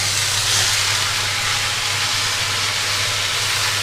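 Raw chopped banana flower hitting a pan of fried spices gives a steady, loud, continuous sizzle and hiss, unbroken from start to finish, with a low hum beneath.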